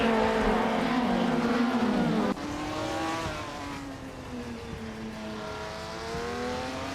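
Racing cars roar steadily through a race, engine tones sweeping up and down as they shift and pass, loud and continuous with a sudden change in the mix partway through.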